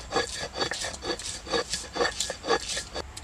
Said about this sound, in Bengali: এবার আমি পেঁয়াজ আর রসুন একসাথে বেটে নিচ্ছি